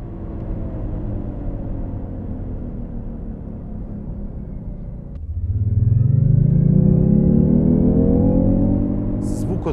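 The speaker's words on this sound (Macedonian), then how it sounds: "Се слушаат само пневматиците кои газат на асфалтот" A Jaguar I-Pace electric car driving on an asphalt road, a steady low rolling hum that swells midway into a louder, rising whine as the car gathers speed.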